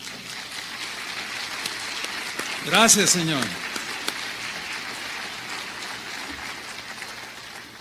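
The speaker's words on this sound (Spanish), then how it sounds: "¿Cuántos le dan un aplauso al Señor?" A church congregation applauds through the whole stretch, a steady broadband wash of clapping that sounds like rain. A voice briefly calls out over it near the middle.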